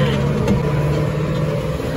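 A tractor towing a rear-mounted mower across a farm meadow during late mowing, its engine a steady, close, humming drone at an even pace.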